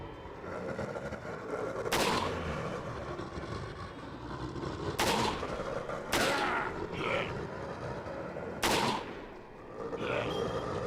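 Semi-automatic gunfire in the Dead Rising video game, four sharp single shots spaced a few seconds apart over a steady background din, close and loud.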